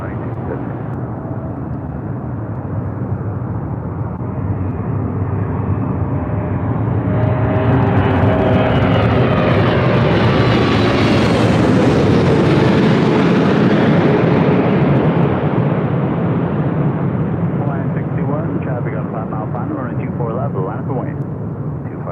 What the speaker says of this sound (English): It's an American 777-300ER flying over our head here in Los Angeles